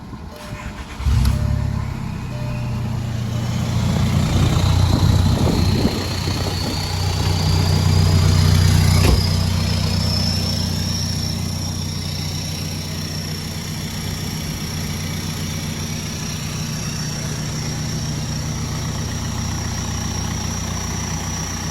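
A VW Jetta MK4 TDI diesel engine with a straight pipe starts with a sharp turn-over, revs briefly, then settles into a steady, smooth idle that runs on close by.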